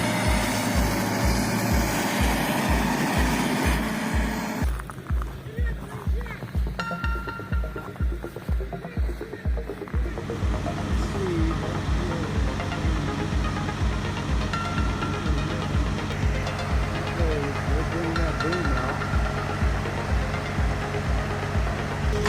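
A 400-horsepower KAMAZ truck labors in deep snow, its diesel engine droning loud and steady with a rapid low pulsing throb that shifts in pitch partway through, with no talk.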